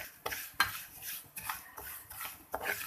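A utensil scrapes and stirs crushed vermicelli roasting in ghee in a pan over a low flame for sheer khurma. The strokes are rhythmic and close, with a soft sizzle and no talking.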